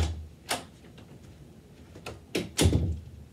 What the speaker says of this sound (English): Shut the door on me.